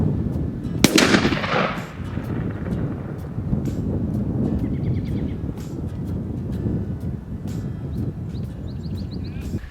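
A 20 gauge turkey shotgun loaded with tungsten TSS shot fires once near the start, a single loud close blast, followed by steady wind noise outdoors.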